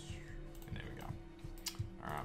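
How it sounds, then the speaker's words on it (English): Computer keyboard key presses and mouse clicks picked up by a microphone during World of Warcraft play: faint, quick, irregular taps and clicks under a person talking. "you're hearing the clicking and you're hearing the keyboard pressing"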